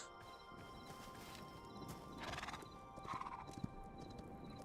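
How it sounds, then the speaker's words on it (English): Horse hooves clip-clopping at a steady quick pace in a video game, with a brief whinny, under a faint game background hum; no talking. "Or if we can use the horse to get over there quickly."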